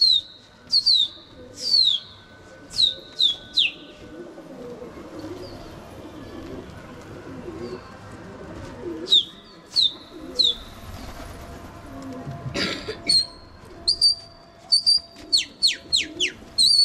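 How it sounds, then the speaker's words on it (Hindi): Pigeons kept in training give short, bright calls in quick bursts of two to four. Pauses separate the bursts, and the calls come close against a low, steady background. "ये कबूतर"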